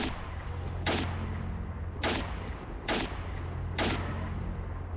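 Gunfire in S.T.A.L.K.E.R., four sharp, loud shots spaced about a second apart over a low background rumble, with no voices during the shots.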